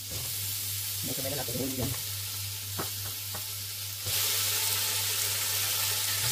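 Pork meat and aromatics sizzle steadily in a hot pan, with a constant frying hiss, a few stirring clatters and a low hum. A voice speaks briefly over the cooking.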